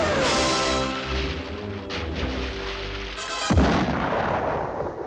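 Torpedo explosion in a 1956 Looney Tunes cartoon, a loud dense blast with rumbling debris and a sharp second boom midway, sustained noisy roar throughout with no speech.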